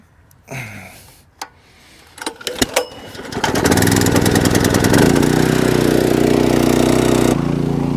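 Small engine-driven water pump pulling from a pond: a few clunks and pull-start attempts, then the motor catches and settles into a loud, steady running drone close by.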